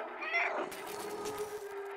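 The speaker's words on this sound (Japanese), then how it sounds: "この猫ちゃんの声に反応するような仕掛けになってるね" A cat meows in the video game Stray, one drawn-out mewing cry near and clear over soft game ambience, followed by a steady hum.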